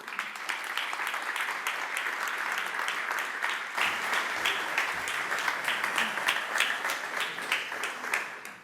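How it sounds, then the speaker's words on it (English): An audience at a game developers' demo day applauds a speaker's introduction, with sustained, evenly spaced clapping from many hands that continues for several seconds before tapering off at the end. "Let's give a big round of applause to David Jaumandreu."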